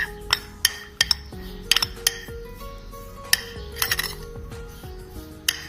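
A spoon mixes green chilli chaat with coriander in a dish, making a series of sharp metallic clinks and scrapes against the bowl, some in quick clusters, close and fairly loud with no voices.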